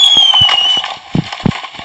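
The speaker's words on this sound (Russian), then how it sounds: "и запускаем первый фейерверк." A Minecraft firework whistles upward with a descending tone, followed by a few sharp pops and crackles close by.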